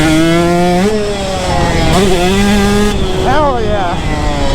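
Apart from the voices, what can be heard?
two-stroke motorcycle revving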